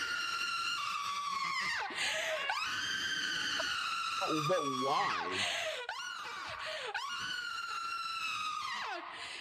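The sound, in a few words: woman screaming in protest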